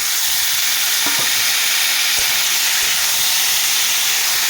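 Potato and tomato frying in a pan, a steady loud hiss of sizzling oil with a few faint stirring knocks, no talk.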